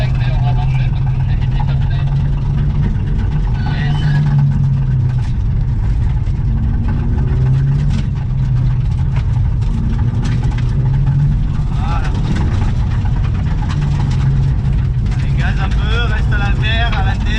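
A Mitsubishi car engine hums steadily from inside the cabin during a driving lesson, rising and easing with throttle under near-continuous talk from instructor and learner.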